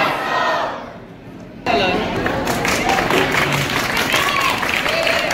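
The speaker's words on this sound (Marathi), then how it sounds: "एकदा जोरदार टाळ्या होत्या।" Crowd applause breaks out loud and close at a village kabaddi prize-giving, a dense wash of clapping and cheering that swells after a quieter opening and holds steady.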